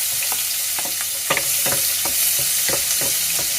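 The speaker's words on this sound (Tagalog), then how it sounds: "Gisan natin itong luya." Ginger and garlic sauté in a hot pan for balbacua, a steady bright sizzle with a series of scraping stir strokes at an uneven rhythm, close and fairly loud.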